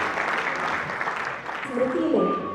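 Audience applause for a guest on stage at a spiritual festival gathering in Ambala Cantt, a steady mass of clapping with voices mixed in toward the end.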